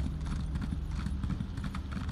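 Horse hooves clip-clopping at a steady trot while riding in The Elder Scrolls Online, a continuous rhythmic beat over in-game ambience, fairly loud and close throughout.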